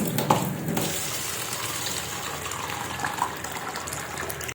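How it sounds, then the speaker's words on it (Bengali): Dal lentils being washed in water, with a steady broadband rush of running water and splashing that holds throughout at moderate loudness, a brief louder splash near the start. "ডালটাকে আমি ভালো করে ধুয়ে নেব।"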